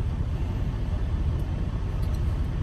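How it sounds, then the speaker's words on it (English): A truck engine idles steadily in winter cold, a continuous low rumble close by with no talk. "The truck running right now."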